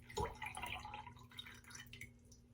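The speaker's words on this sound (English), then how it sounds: "Getting ready to extract or squeeze out all the water of the brush" Water squeezed by hand from a new Trotters shaving brush, a quick close splash followed by scattered soft drips and small wet squishes, quiet and alone.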